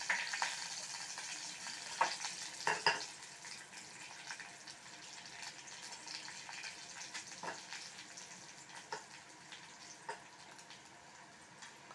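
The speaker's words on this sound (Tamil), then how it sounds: "எண்ணெய் சூடேறினதும் இந்த உளுத்தம்பருப்பை பாதி போட்டுக்கோங்க" Urad dal sizzles as it hits hot oil in a pan, a quiet, steady fizzing hiss with a few sharper crackles and bursts early on, then settling into a soft continuous fry.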